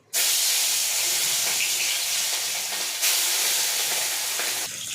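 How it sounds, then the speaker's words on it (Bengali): Hilsa fish frying in hot oil in a wok, a loud, steady broadband sizzle that starts abruptly as the fish goes in and continues without talk, with a brief flare near the three-second mark. "এবার আমি কড়াইতে মাছগুলো দিয়ে দেবো।"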